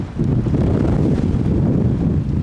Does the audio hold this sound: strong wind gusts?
yes